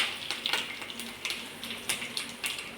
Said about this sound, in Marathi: कढीपत्ता आणि लसूण तेलात छान फ्राय झालाय